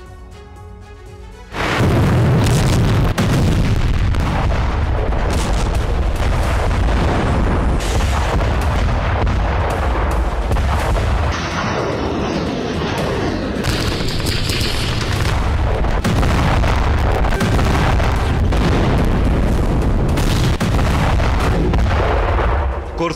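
Artillery and Iskander missile strikes on a military convoy in Sumy, a war zone, pound out loud, near explosions and booming fire in rapid succession, with a faint voice beneath.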